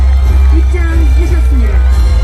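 A large crowd of political supporters fills an outdoor fountain plaza outside the National Assembly, cheering and whooping loudly and continuously under a steady rumble of massed voices.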